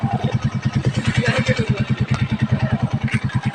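Motorcycle engines droning steadily close by with a fast, even pulsing throb, riding along over a bridge in Santa Isabel; constant loud rumble throughout.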